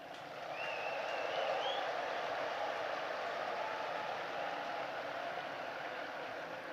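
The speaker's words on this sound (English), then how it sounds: "Please give a round of applause for the West Point Band" An audience at the United States Military Academy West Point graduation ceremony applauds the West Point Band with a steady, even wash of clapping that sounds distant and fairly faint.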